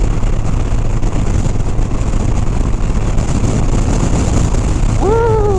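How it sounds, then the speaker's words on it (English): Strong wind gusts buffet the microphone outdoors beside a highway in Indiana, a loud, steady roar filling the whole stretch, with a short rising whoop-like tone near the end. "It's windy and it's gusty."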